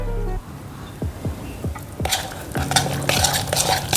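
A homemade soap mixture with oil being stirred in a bowl, with a series of scraping, swishing strokes close up, first spaced and then a denser, louder stretch of clattering stirring.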